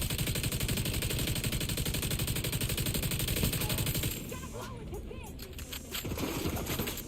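Sustained automatic LMG fire in The Division shooter game rattles in a dense, rapid stream for about four seconds, then drops away to quieter scattered shots and ambient game noise.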